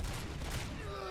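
Gunshots in a RoboCop video game, a brief dense volley of shots blurring into a continuous roar, fairly quiet and over a busy game background.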